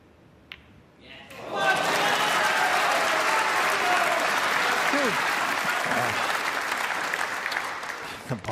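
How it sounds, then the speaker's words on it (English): Snooker crowd at the Barbican during the UK Championship final bursting into sustained applause after a quiet moment, loud and steady, with a commentator talking over it. "The Barbican crowd are starting to get excited."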